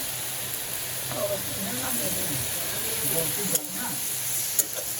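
Potatoes frying in a pan toward browning, with a steady close hiss and sizzle, faint stirring movements and a couple of sharp clicks.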